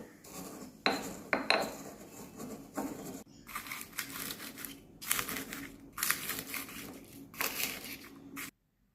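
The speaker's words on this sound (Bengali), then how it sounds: "ঠান্ডা হয়ে এলে এবার এটা হামালদিস্তায় বা শিলনোড়ায় গুঁড়ো করতে হবে।" Roasted mustard seeds and dry chillies are crushed in a mortar, heard as repeated close pounding and grinding bursts with gritty crunching between strikes, ending abruptly in silence.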